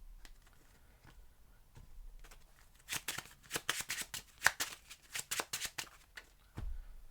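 Quick, crisp card-shuffling effects from a video game: a burst of rapid riffling clicks, quiet and close, with no voices.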